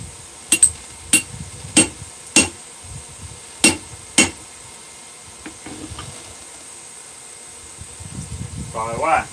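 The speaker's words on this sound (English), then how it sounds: "I hit it with the hammer and the mushroom did a little bit." Hammer striking a stuck metal punch, six sharp ringing blows in a fairly even rhythm, close and distinct, followed by a few fainter knocks and some handling noise.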